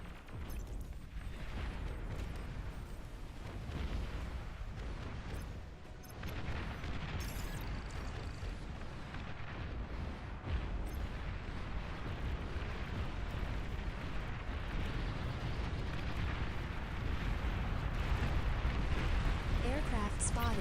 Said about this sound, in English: Wow, bombed all my guys.